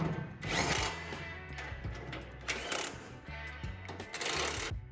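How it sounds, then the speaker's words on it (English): Bursts of drilling into quarter-inch steel plate, a grinding whine rising and falling in several pushes, with clicks and knocks between bursts, moderately close. "clamped it to the other piece of quarter inch steel and drilled my holes"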